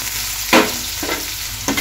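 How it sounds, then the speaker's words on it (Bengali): Capsicum being stir-fried in hot oil gives a close, bright sizzle, with three distinct scraping stirs spread across a short stretch. "তো ক্যাপসিকামগুলোকে তেলে নাড়া নাড়া করে ভেজে নেব।"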